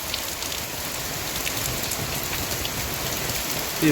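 Heavy rain pours steadily in a rural Sundarban setting, a dense, continuous hiss of drops drumming on surfaces with no letup, close and loud, with no voices.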